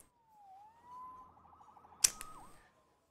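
A faint synthetic siren tone in a Spider-Man video game wavers up and down in a quiet setting, followed by a sharp crack and a brief burst of noise.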